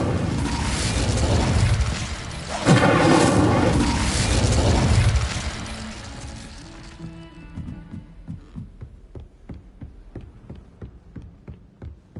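An Incendio fire spell effect from Harry Potter bursts into a deep roaring whoosh with rumbling low boom, then fades into a scatter of crackling pops and ticks trailing off, loud and close.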